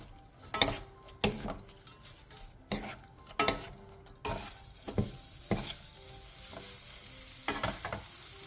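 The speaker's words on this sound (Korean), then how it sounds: "한 김 식힌 명엽채를 넣고 양념이 골고루 묻을 수 있게 뒤적여주세요" Dried filefish strips are stirred into bubbling seasoning sauce in a pan over medium-low heat, with repeated spatula scrapes and clinks against the pan over a steady soft sizzle, close and fairly quiet.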